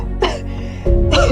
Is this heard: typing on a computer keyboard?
no